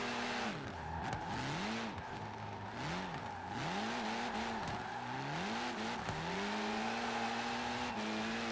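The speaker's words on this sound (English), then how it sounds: "that was a nice little drift there" A Lancia drifting in the Forza Horizon 4 video game, its engine revving up and down in repeated swells while the tires squeal steadily, loud and continuous throughout.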